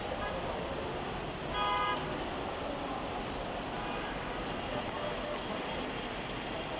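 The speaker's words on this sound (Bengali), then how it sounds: "আকাশ মেঘাচ্ছন্ন, বৃষ্টি হচ্ছে।" Steady rain pours over a street in Dhaka near the Secretariat and Gulistan area, a dense even hiss across the whole clip with traffic mixed in and a brief horn-like tone early on.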